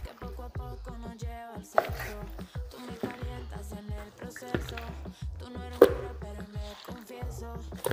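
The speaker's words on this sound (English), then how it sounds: "If you get 4 to 6 of these stacked and then you start to cut your stir-fry strips" A knife cuts through stacked meat into stir-fry strips, a quick run of crisp chopping taps on a cutting board, evenly spaced and close, with no talk.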